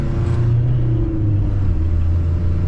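A pickup truck running with tequila in its gas tank: a loud, steady engine drone and road rumble heard from inside the cab, with the pitch shifting slightly as it cruises and no talking.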